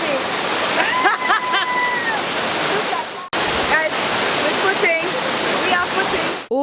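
Aruu Falls in Uganda roars as a waterfall with rushing water along rocky rivers, a loud continuous wash heard up close, with people talking over it.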